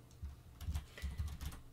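Keys clatter on a computer keyboard as a command is typed into a terminal, several quick bursts of close, moderately quiet clicks in an uneven rhythm with no voices.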